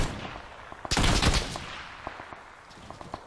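Gunfire in the PUBG video game, a heavy burst of shots with a rumbling boom followed by scattered lighter distant pops, fairly loud and with no talk.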